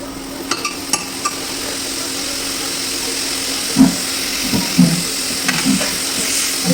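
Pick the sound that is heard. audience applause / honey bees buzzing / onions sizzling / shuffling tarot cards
onions sizzling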